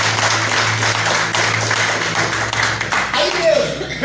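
Church congregation clapping during a Portuguese-language worship service, a dense continuous patter of hands filling the room with voices mixed in underneath.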